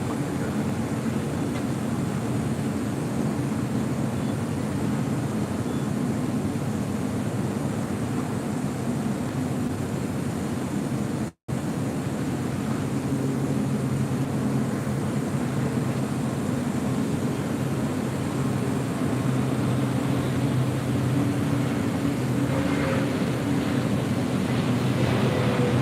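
An EVA Air Boeing 777 on short final into LAX produces a steady, broad, distant roar of jet engines and airflow that holds continuously throughout, with no speech.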